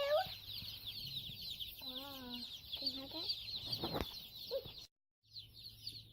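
Baby chicks peep continuously in a dense high chorus as they are unboxed, close and steady, while a voice briefly speaks over them and the sound cuts out for a moment near the end.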